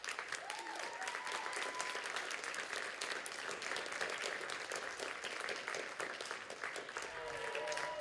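An audience at a poetry slam claps steadily, a dense patter of many hands at moderate distance, with faint voices and whoops mixed in throughout.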